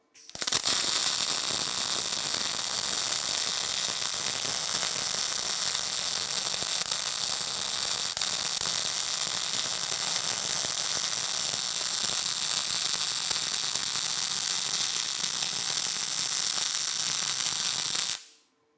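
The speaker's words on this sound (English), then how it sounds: "And we'll just weld her up." A steady, crackling arc hiss runs unbroken for about eighteen seconds as a weld bead is laid onto a cast iron cane mill roller, then cuts off abruptly.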